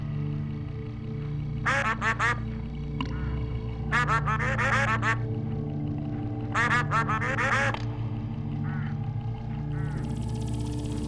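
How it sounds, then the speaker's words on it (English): A swarm of crows in the video game Hitch Hiker gives repeated bursts of raspy cawing in clustered groups over a steady low ambient drone. "These birds are unpredictable. There's no telling what they'll do once they start swarming."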